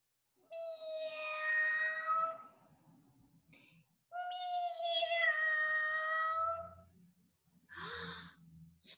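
A small cat meows twice in long, drawn-out cries, close and clear, with a soft breathy sound between them and a short rustle at the end.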